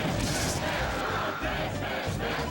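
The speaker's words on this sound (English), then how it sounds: "I rarely ever get to hear the crowd say Ness." Loud, dense crowd cheering and shouting at a Super Smash Bros tournament as the audience calls for the Ness player, a continuous roar without commentary.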